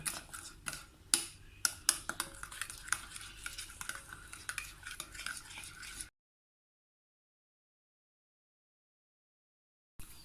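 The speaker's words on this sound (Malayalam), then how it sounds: "ഇതെല്ലാം കൂടി നല്ലതുപോലെ മിക്സ് ചെയ്യുക" A spice and vinegar marinade for KFC-style fried chicken is mixed in a bowl with a spoon, a quick run of close clicks and scrapes for about six seconds, then silence.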